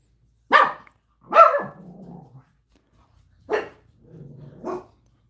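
Neighbors' dogs bark in four sharp separate bursts, two of them trailing into low growling, fairly close and clear against an otherwise quiet background.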